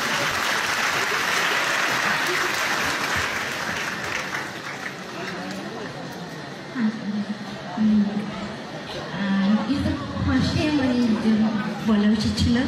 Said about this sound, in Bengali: সকলের জন্য একটা জোরে হাততালি চাইছি।